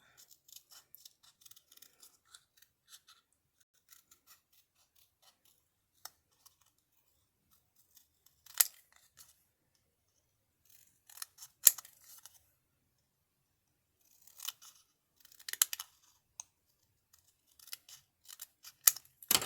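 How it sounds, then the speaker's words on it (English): Scissors snip paper while a paper purse is trimmed, giving faint, close, sparse cuts and light clicks spread unevenly across a quiet stretch. "I'm going to cut where the stitches are."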